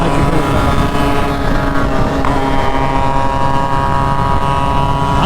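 A Yamaha RX100, a 100cc stock motorcycle, runs with its engine revving loud and close in a continuous buzzing drone with dense harmonics and a brief rise in pitch midway.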